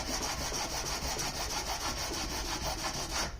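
Sandpaper or a file rasps in quick, even back-and-forth strokes across a wooden mandocello, smoothing rough spots left by drilling, close and steady with no voices.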